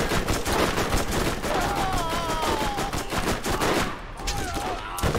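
Gunfire in the video game Borderlands during co-op play: a dense, continuous stream of rapid automatic shots, loud and close, with brief whistling tones riding over the barrage.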